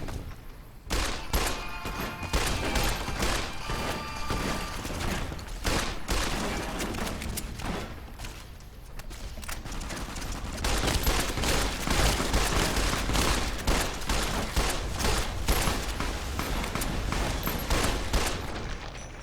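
Gunfire in the video game Fallout: New Vegas, as dense, rapid volleys of loud shots crack one after another, nearly continuous with brief lulls.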